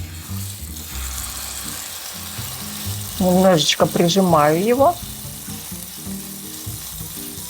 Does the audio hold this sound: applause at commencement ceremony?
no